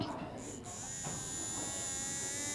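A small vibrating electric motor in a classroom gadget buzzes steadily and continuously at close range, with people talking over it.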